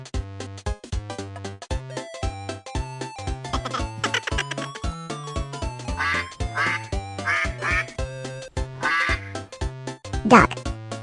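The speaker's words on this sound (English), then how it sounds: "Duck." Repeated duck quacks in a lively rhythmic sequence over a musical backing, bright and prominent, from a children's farm animal sounds song.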